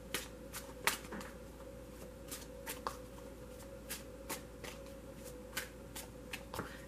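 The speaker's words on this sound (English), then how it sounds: "I don't know why I'm shuffling these." Tarot cards are shuffled by hand in quick, crisp riffling bursts of snaps and flutters, repeated steadily and heard up close against a faint background hum.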